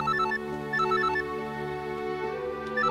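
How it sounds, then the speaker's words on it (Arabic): Telephone playing a melodic electronic ringtone, a repeating pattern of short, clear beeping notes that stays steady and fairly loud over a soft background hum. "ما ترد على التليفون."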